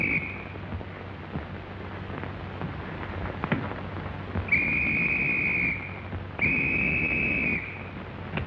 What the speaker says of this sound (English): was you blowing a whistle?